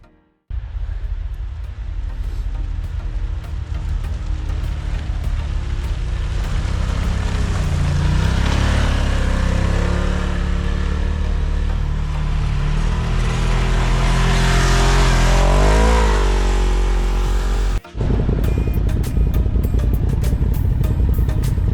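Engine of a vehicle with newly fitted tracks, on its first trip, runs steadily and loudly throughout, rising and falling in revs as it drives, with a brief cut near the end.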